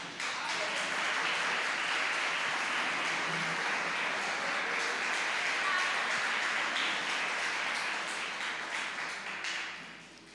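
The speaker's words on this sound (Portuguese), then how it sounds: "Tome teu assento, aplaude o Senhor bem forte," A church congregation applauds steadily for about ten seconds, a dense, continuous patter of clapping that fades slightly at the end, with no clear talk over it.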